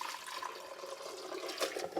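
Chili-infused water pours steadily into a blender jar, a continuous splashing, gurgling stream with a brief louder surge near the end, close by and with no talking.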